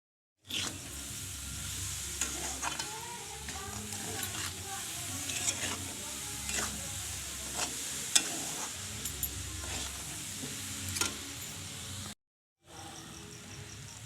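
A sticky mixture of grated coconut and sugar is stirred and scraped around a pan over a soft, steady sizzle, with intermittent clicks of the spoon; no talking.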